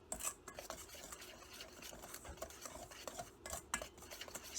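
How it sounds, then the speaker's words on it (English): Puto batter with white sugar and baking powder is mixed in a bowl, giving quiet continuous scraping and clinking of a utensil against the bowl, close and soft with small clatters throughout. "we'll just have to mix this very well."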